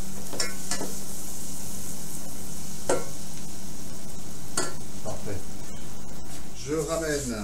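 Crisp, dry rattling and scraping as small hard pieces of drying bread are stirred around a pan, with sharp clicks and a low steady hum underneath, ending with a brief rustle.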